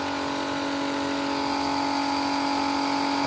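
DeWalt 20V transfer pump (DCE050B) pulling water through a short hose, a steady high motor whine with a hard tonal hum that holds unbroken and close, with no talking.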